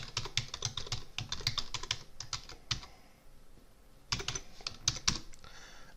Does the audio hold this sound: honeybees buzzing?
no